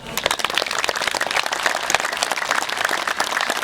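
Loud, close clapping by a crowd at an outdoor International Yoga Day gathering, sharp individual claps blending into fluctuating, uneven applause.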